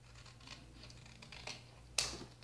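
Scissors snip through a milk carton while a cutlery holder is made from the carton and fabric, with faint crinkling and then one sharp, close cut standing out near the end.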